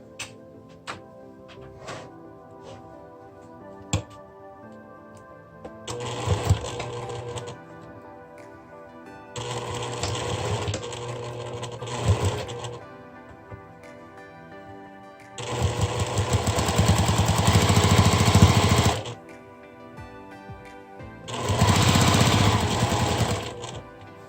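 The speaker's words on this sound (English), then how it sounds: "I'm going to continue sewing along the wrong side until I have it done" Sewing machine stitching a twill tape birthday banner in gray thread, four bursts of rapid, loud mechanical needle chatter separated by quieter pauses with small clicks and handling noises.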